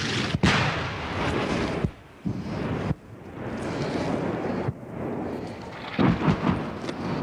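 French artillery fires in the distance near the Algerian–Tunisian border, heard as several deep muffled booms and rumbles amid wind buffeting the microphone.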